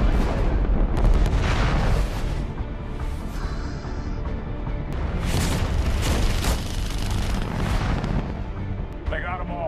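Torpedo fire and explosions from a space battle in The Expanse rumble loudly and continuously, with repeated booms and bursts layered over a dense roar and voices speaking over them.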